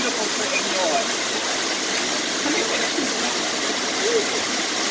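A waterfall pours in a steady, unbroken roar of rushing water that fills the whole stretch at an even level, with faint voices murmuring underneath.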